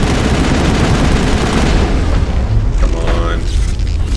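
Sniper gunfire in the Mass Effect video game, heavy booming shots rolling together into a continuous loud barrage, with a brief spoken exclamation over the din.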